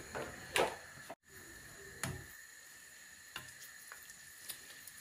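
Fafra frying in hot oil makes a quiet, steady sizzle, broken by a few sharp clicks and a brief dropout near the start.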